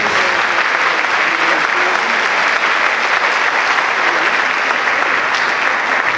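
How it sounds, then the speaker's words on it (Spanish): Loud, sustained applause from a large crowd praising the Lord at a charismatic Catholic archdiocesan congress, a dense and steady roar of clapping throughout. "Den un aplauso maravilloso al Señor."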